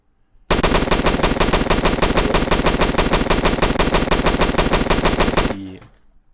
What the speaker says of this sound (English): If I shoot now a magazine empty, and press now on reload.